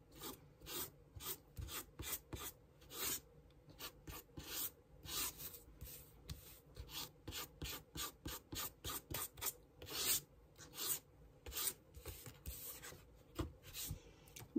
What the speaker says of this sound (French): Petite lime pour enlever tous mes minons.